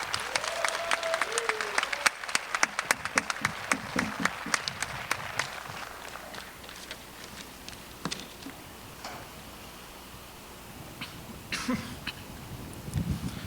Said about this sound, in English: So please give Joe a big round of applause as he gives his speech.